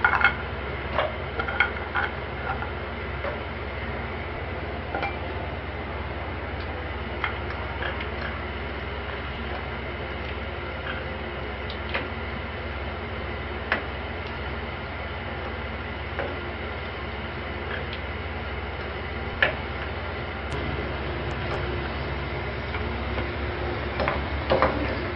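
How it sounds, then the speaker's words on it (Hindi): Strips of sun-dried meat frying in hot oil for Eid-ul-Adha, a steady close crackle with scattered sharp ticks and pops running continuously, fairly quiet and without talking. "देखिए, इसको इस तरह से फ्राई कर लें।"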